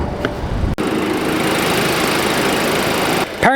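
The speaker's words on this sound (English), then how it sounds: "Powering this is a 2-liter turbo 4-cylinder that goes through a 7-speed dual clutch automatic." A 2026 Audi Q3's 2-liter turbocharged four-cylinder with a 7-speed dual-clutch automatic drones steadily and loudly, broken by a brief dip near the start and a short shift in tone at the end.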